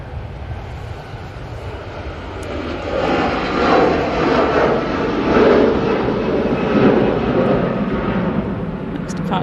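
A Jet2 jet airliner departs Manchester Airport bound for Tenerife, its engines roaring broadly and steadily and swelling louder toward the middle before holding, with wind noise on the microphone.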